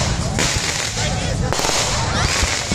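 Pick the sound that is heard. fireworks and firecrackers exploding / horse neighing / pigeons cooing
fireworks and firecrackers exploding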